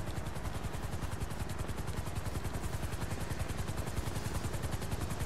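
Helicopter in GTA 5 Online, a steady rapid rotor chop with a dense low thrum, loud and continuous with no talk over it.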